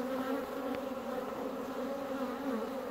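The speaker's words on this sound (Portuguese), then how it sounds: "Belo enxame." A honey bee swarm drones steadily inside a hive during a colony split, a close, continuous loud buzzing hum with no voices.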